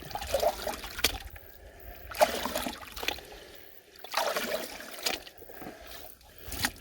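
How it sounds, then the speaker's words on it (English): Water trickles and sloshes off a gold pan dunked in a stream while prospecting, in several soft uneven surges close by, with no talk. "you just dunk it and let the water, as it wants to travel off, take the lights with it"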